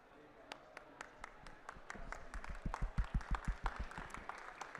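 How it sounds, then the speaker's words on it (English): A small group at a COP27 agreement signing ceremony claps, starting with scattered isolated claps and building into brief, denser applause near the end. "A big round of applause."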